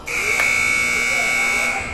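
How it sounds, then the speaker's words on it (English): A basketball arena buzzer blares loud and steady for about two seconds at the end of a girls' high school playoff game, with crowd noise and commentary underneath. "And Keisha Phillips will miss the three-pointer at the buzzer."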